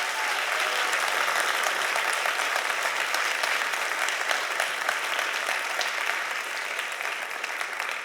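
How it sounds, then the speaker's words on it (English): An audience claps steadily for about eight seconds at an event presentation, a dense, continuous wash of hand claps with no voices over it, holding loud throughout and tapering slightly near the end. "I want you guys to give a round of applause to all these guys."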